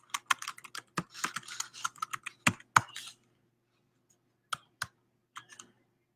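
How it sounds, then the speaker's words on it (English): Computer keyboard typing, close and clear: quick bursts of clicking keys for about three seconds, then a pause and a few scattered taps near the end. "I'm going to type it here, okay?"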